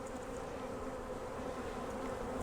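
Honeybees in an opened hive with drones present hum in a steady, close, unbroken drone during an inspection of frames of pollen and bee bread, with no voices.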